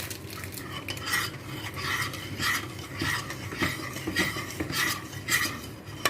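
A spoon stirring butter and vanilla into a thick milk pudding in a pot, rhythmic scraping and clinking strokes against the metal repeating about once a second, close and fairly loud.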